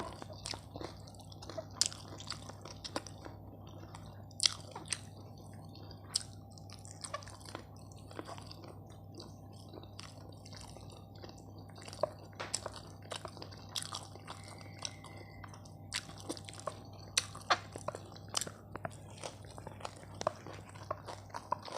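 Close, crunchy chewing of a spicy bean salad with sticky rice and grilled chicken: crisp bites and wet squishy sounds repeating irregularly over a low steady hum.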